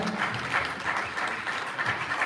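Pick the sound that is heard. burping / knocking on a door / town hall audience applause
town hall audience applause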